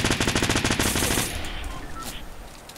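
Rapid automatic gunfire in Fortnite shoots down an opponent's built wall, a loud close burst of shots for about a second that fades into a noisy, rumbling tail.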